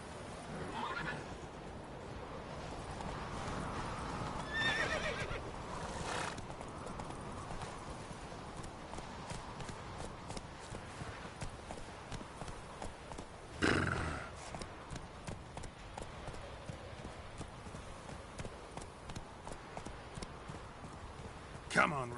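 The horse Roach in a video game clip-clops in a steady walking rhythm, with a loud neigh near the start and another sharp whinny midway, close and clear, alongside occasional speech.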